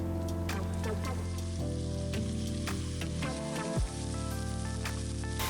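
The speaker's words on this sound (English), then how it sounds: "we're going to leave that beef to sit and sear and get nice and crusty" Beef frying in hot oil in a pan for a spicy beef sambal noodle dish, a steady crackling sizzle with scattered pops and a brief stir or clank near the end, no talk.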